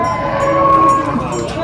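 Holstein Friesian cows low at a busy cattle market, a sustained near moo with a steady tonal drone lasting the whole short stretch, loud and continuous with no talk over it.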